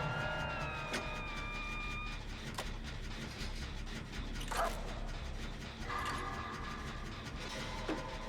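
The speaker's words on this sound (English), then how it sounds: "I'm hoping she sends the dog that way" A dog in the Dead by Daylight video game gives a few sharp, scattered barks and yips at a moderate distance over a constant low in-game ambient drone.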